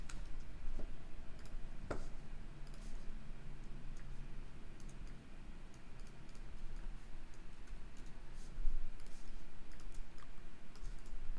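Quiet, light clicking of a computer keyboard as someone types at a desk, soft irregular taps scattered across a faint room background with no speech.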